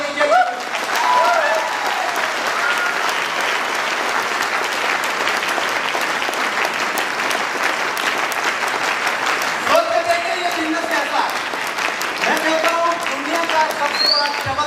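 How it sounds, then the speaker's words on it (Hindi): Sustained audience applause at a Safe Shop speech event, a dense loud wash of many hands clapping for about fifteen seconds with a few voices and cheers cutting through near the end. "एक बार ताली होनी चाहिए"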